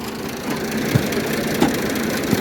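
A village tractor runs at a tractor competition, giving a steady, loud rumbling engine drone with a few faint knocks and no voices.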